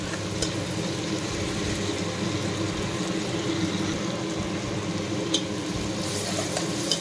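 Chopped tomatoes with golden-browned onions frying in oil for a mutton curry, a steady close sizzle with soft stirring scrapes throughout and a couple of sharp clicks.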